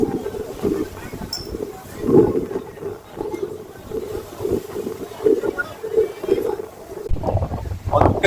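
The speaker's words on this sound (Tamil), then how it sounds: "இன்னைக்கு அலை பயங்கரமா இருக்குங்க. கப்பல் வந்து இந்த பக்கம் அந்த பக்கமும் அண்ணன் அடிக்கிட்டு போகுது." Boat ride on rough sea waves at Kanyakumari, with wind buffeting the microphone and a steady low drone as the hull rocks through swells; voices are heard intermittently over the noise.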